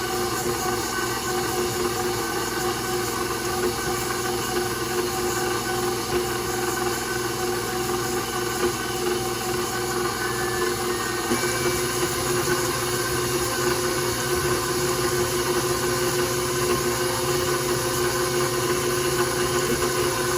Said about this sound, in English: Using my paddle attachment on my KitchenAid mixer, I'm just going to mix it real slow at first and then speed it up.